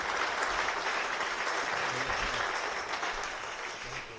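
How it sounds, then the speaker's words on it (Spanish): A church congregation applauds in sustained, dense clapping that fills the room for the full stretch, slowly easing off toward the end. "Démosle un aplauso al Señor."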